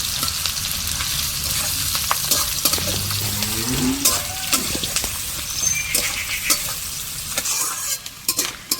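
Onions fry in a pan while picnic food is cooked outdoors, a steady close sizzle with bursts of stirring and scraping, brief watery splashes and a few faint clinks along the way.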